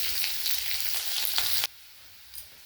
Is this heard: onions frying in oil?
yes